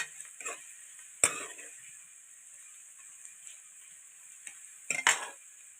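Onions browning in a pan give a faint, steady sizzle, broken by a few sharp scraping clinks of a spoon stirring against the metal.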